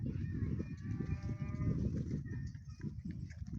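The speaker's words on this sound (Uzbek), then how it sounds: "Ho'kiz qanday ho'kiz." A bull offered for sale at a livestock market lows in a drawn-out moo through the first half, set against a dense background of voices and other animal sounds.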